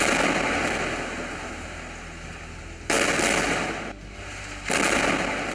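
Explosions and gunfire from an Israeli bombardment of Gaza: a continuous harsh crackling roar with sudden loud broadband bursts near the three- and five-second marks, dense and fairly close, with no voices.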